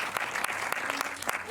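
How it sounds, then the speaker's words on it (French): Applause from a cinema audience after a screening, a dense burst of clapping from many hands heard close and fairly loud, with some voice mixed in. "Je crois que vous pouvez les applaudir à nouveau."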